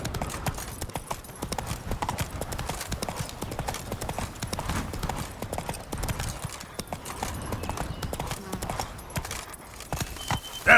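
Horse hooves galloping in The Witcher 3 video game: a steady, fast clip-clop rhythm that runs the whole time, with faint game sounds behind it.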